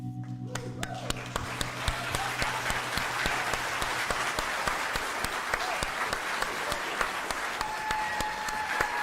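An audience at a live music showcase gives a band sustained, dense applause, with many hands clapping steadily at an even level.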